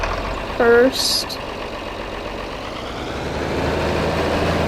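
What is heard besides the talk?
40-20 tractor engine running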